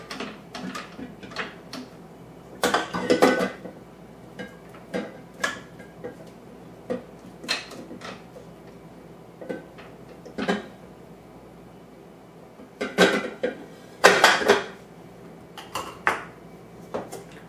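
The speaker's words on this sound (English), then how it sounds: "Give the blade a good scrape." A spatula scrapes a mixer blade in a bowl of poke cake batter, making irregular clusters of close scraping and clinking taps with short quiet gaps between them.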